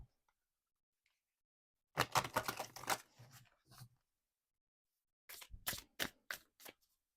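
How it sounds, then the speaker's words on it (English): A deck of tarot cards gets shuffled in two quick riffling bursts separated by a pause, crisp papery flutters close by in a quiet room. "So let's give these cards a shuffle."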